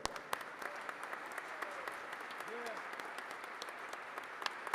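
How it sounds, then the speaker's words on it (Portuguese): Applause from the audience at a formal award ceremony honoring José De La Rolle, a steady, moderately distant wash of clapping with scattered sharper claps and a faint voice underneath. "a quem eu peço uma salva de palmas"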